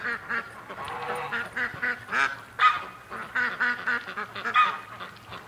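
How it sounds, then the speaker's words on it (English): Ducks on a lake, a whole flock returning together, calling in repeated overlapping quacks and honks that rise and fall through the stretch at moderate closeness. "all my ducks are coming back. The whole group's coming back at once"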